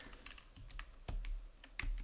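Close, quiet typing on a computer keyboard comes as scattered key clicks with a few heavier thumps, likely the space or enter key, over a faint background hiss.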